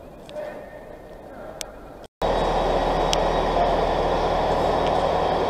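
A train pulling out of Hull station, heard as a steady, loud low rumble with broadband engine noise that swells after a short gap and holds to the end, following quieter station ambience.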